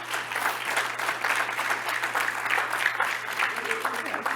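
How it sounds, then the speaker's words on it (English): Audience applause at a conference kickoff session, a steady wash of clapping holding at an even level throughout, with a low steady hum underneath and no clear voices standing out. "And I want everybody to give this man a round of applause."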